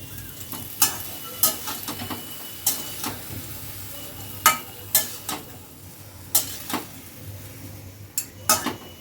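Tomato and cut eggplant fry in a pan while a utensil stirs them, giving a steady sizzle broken by repeated sharp scraping and clinking strokes of the spatula against the pan, close and clear with no talking.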